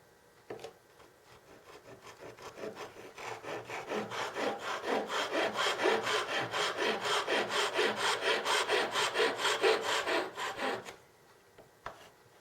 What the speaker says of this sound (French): Je donne un coup de scie à chaque extrémité qui me délimite la dimension de la pièce.